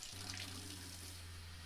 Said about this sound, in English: I'm gonna turn on the cold water, and you should still see some water coming out